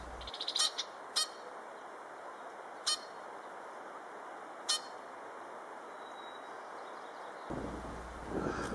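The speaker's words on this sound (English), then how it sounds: "Pitt's last name is Red Winged Blackbird." A red-winged blackbird calls at a pond, sharp chirps spaced out over a steady windy outdoor background, fairly close and clear.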